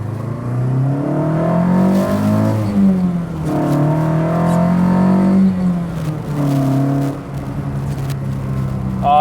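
A Sigma kit car's engine runs and revs on its first drive, fed through 45 Dellorto carburettors, giving a loud, steady throaty drone that swells and eases in several rising and falling surges over the whole stretch.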